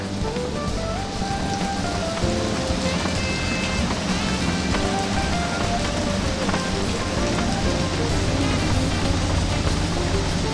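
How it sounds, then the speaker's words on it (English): Heavy rain pours down steadily, a dense, constant hiss and patter with a faint engine hum beneath and some musical tones in the background. "Look at the rain, it's just coming down buckets here."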